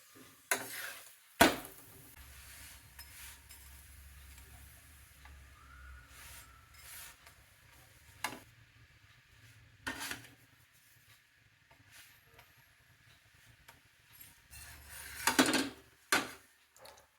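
A spatula presses and scrapes the edges of a sesame-jaggery tilgul poli on a hot griddle. There is a soft continuous rubbing, broken by several sharp scraping knocks spaced apart, and the whole thing is quiet and close.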